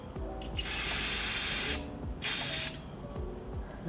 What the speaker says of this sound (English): I'm just going to do about 6 inches away and just go ahead and spray it